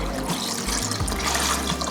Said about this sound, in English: you're gonna start off by rinsing off your basil leaves in some cold water